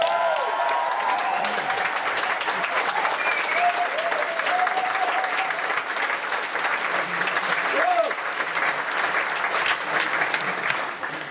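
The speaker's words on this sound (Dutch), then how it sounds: "hard, enthousiast applaus." Loud, sustained applause from a large audience, a dense wash of clapping that holds steady for several seconds before tapering slightly at the end.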